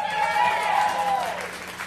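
Live audience at the Gladstone clapping and cheering for a band, a steady wash of applause with a raised whoop or voice rising through it, loud and continuous for the whole moment before fading slightly at the end.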